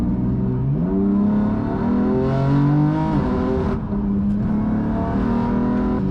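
A race car engine drones steadily and loudly at a Nürburgring time attack event, its pitch rising and falling in smooth sweeps as the car runs on brand new tires, heard alone without talk.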